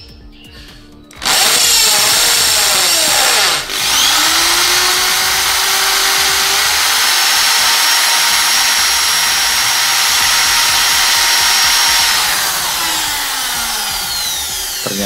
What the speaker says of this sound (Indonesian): Kita bor kedua pisau ini masing-masing sekitar 10 detik.